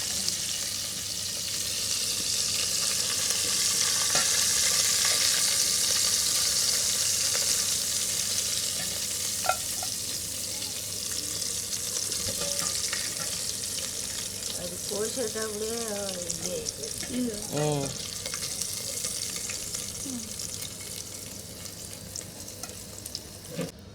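Onions frying in a pan of oil already used for fish sizzle continuously with crackling pops and stirring scrapes, close up, while a voice speaks briefly partway through.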